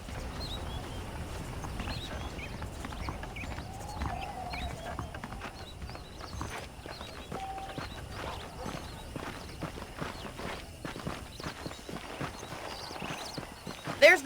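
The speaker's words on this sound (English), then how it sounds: "The horses are saddled up over here." Saddled horses in the western video game Red Dead Redemption clip-clop steadily at walking pace, hooves close and even, with an occasional neigh, while someone talks over them.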